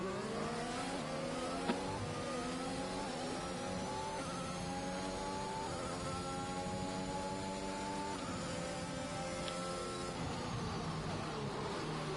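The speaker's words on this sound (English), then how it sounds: "pressing down the power as hard as he can, trying to squeeze out everything from the Mercedes power unit compared to the Ferrari" A Mercedes power unit in a Formula racing car at the Bahrain Grand Prix in a racing video game, a high, buzzing engine whine holding steady with rising and falling pitch sweeps as it revs through gears, continuous and fairly distant.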